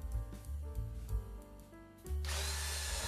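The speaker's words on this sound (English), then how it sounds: "I moved the bit towards the center another 1/4 inch and made several more passes, going deeper each time." A router bit cuts a subwoofer driver hole in wood with a high whining motor pitch that shifts with each pass, then settles into a steady, harsh cutting roar up close.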